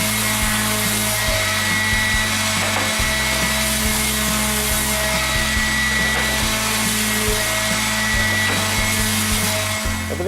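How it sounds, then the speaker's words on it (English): Power sander smoothing burrs and splinters off machined plywood cabinet pieces, a steady loud whir throughout with slight shifts in pitch as the sander moves across the wood. "Sand everything real quick to take off some of the burrs and little pieces of splinters and so forth"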